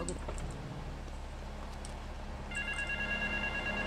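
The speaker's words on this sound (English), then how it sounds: "Answer the fucking phone" In Grand Theft Auto III, a phone starts ringing partway through with a repeated electronic tonal trill over game background noise, and faint voices are audible.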